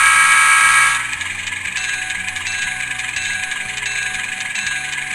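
An Athearn SW1500 model switcher locomotive's sound decoder plays through its standard speaker, a loud bell or horn-like tone at first dropping into a steady mechanical diesel idle with rhythmic chugging, no voices.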